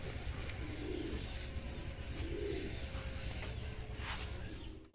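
Soft pigeon coos repeat a few times over a quiet background hum, low and muffled, with faint chirps now and then.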